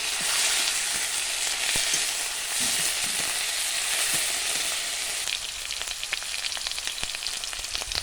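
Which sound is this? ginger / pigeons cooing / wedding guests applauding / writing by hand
ginger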